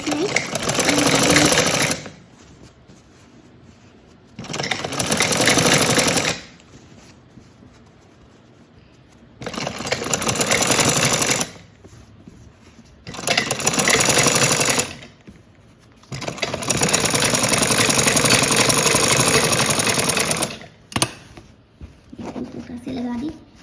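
A sewing machine stitches a frock-style kurti in several loud, close bursts of rapid whirring, each a few seconds long, with short quiet pauses between runs.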